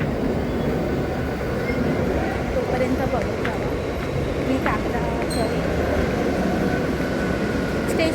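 Train noise at Kandivali railway station, a steady rumbling roar with faint squeals and clanks, heard under a voice speaking briefly close by.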